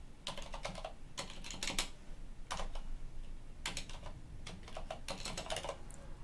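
Typing on a computer keyboard during a Linux setup, clusters of quick, close key clicks in bursts separated by short pauses, with no talk.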